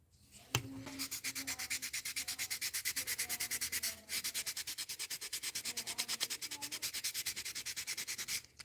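Hand sanding of a handmade musky crankbait lure: rapid, steady back-and-forth rasping strokes close by, continuous apart from a brief pause midway.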